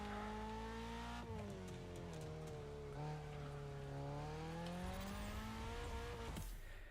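Racing car engine in The Crew Motorfest revs steadily with rising and falling pitch while the tires slip and squeal as it spins out, loud and continuous throughout with no talk.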